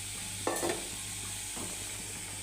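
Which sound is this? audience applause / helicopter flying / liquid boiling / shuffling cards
liquid boiling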